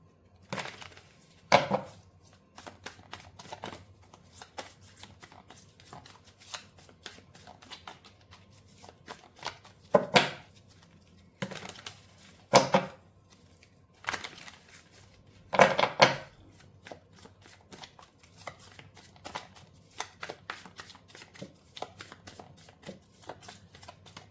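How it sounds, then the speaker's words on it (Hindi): Tarot cards are shuffled by hand in several quick bursts of riffling and flicking, separated by short pauses, close and fairly crisp in a quiet room. "जैसे जैसे मैं कार्ड शफल कर रही हूँ"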